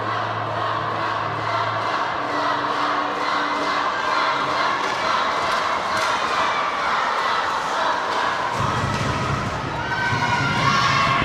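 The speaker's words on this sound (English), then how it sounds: "Let the crowd roar." Crowd in an ice hockey arena at a women's international game between Hong Kong, China and Ukraine roars and cheers continuously, a dense, sustained wall of shouting that swells near the end.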